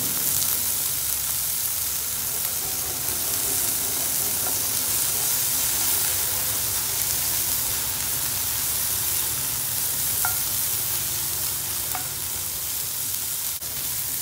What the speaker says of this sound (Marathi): मिनिटभर हे आपण परतून घेतलं आहे कांदा, टोमॅटो, मसाला.